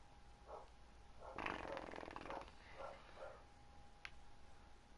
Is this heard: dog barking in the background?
yes